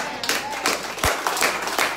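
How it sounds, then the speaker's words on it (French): A church congregation claps at a Sunday service. The applause is moderately distant and uneven, with scattered claps and a murmur of voices mixed in. "applaudis"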